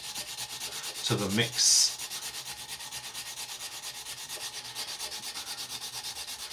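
Close rubbing strokes of sandpaper on hardened CA filler on a scale model run steadily in an even rhythm, with one brief louder scrape near the start and a couple of quiet spoken words.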